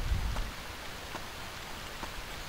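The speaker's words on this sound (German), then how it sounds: "Ach ja, es regnet, falls ihr es nicht bemerkt habt." Rain falls in the video game Stranded 2 as a soft, continuous hiss with a few faint drop taps, steady and distant, with no talking.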